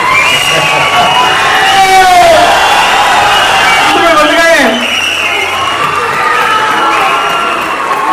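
Crowd at an Antakshari event in Bhopal cheers and whoops loudly, with shouts rising and falling over a steady din, applause mixed in, and a voice speaking briefly over the noise.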